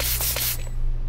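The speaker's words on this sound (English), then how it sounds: "we gotta spray it with the blue bottle" Several quick hissing spritzes from a blue spray bottle in a VR game, short bursts in rapid succession that stop abruptly, heard close and alone over a low steady hum.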